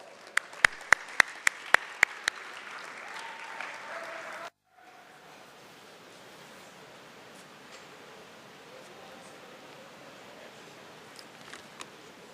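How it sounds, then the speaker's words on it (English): Applause from a university academic and athletics awards banquet in 2016: dense, steady clapping fills about four seconds before cutting abruptly to a quiet room hiss. "Let's give him another round of applause."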